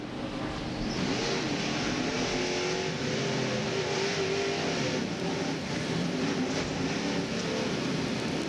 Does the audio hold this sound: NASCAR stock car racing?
yes